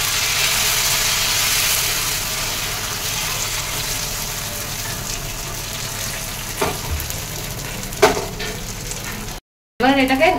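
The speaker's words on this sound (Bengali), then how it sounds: "এবার এটাকে নিচের দিয়ে আবারও কড়া করে আমি ভেজে নেবো" Batter sizzles and crackles steadily in hot oil in a pan, with a few scrapes and clinks of a utensil near the end.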